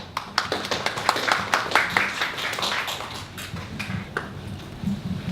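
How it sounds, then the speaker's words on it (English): Applause from a seminar audience for a visiting professor: dense, steady clapping from a moderate-sized crowd, close and fairly loud, sustained across the whole stretch with slight swells. "Please make applause again to Professor Yohda"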